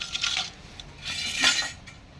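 Raw green mango rubbed across a metal grater, producing soft scraping strokes, one short pass and then a longer, louder one, close up with no talking.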